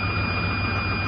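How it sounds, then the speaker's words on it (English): A Chevrolet Suburban running on vegetable oil idles steadily after a cold start, a continuous low engine hum with a faint whine, close and even for about a second. "so now we have the engine running"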